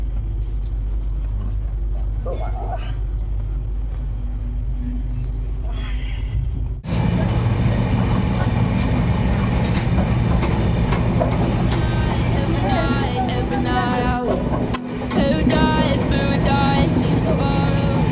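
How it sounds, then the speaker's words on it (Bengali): A passenger train in 3rd AC runs over a river bridge between Howrah and Ayodhya, a steady loud rumble that deepens and thickens abruptly partway through, with a brief dip near the end. "আমাদের ট্রেন পাস করছে একটা নদীর উপর দিয়ে"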